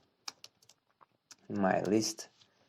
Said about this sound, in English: We are just typing the del function.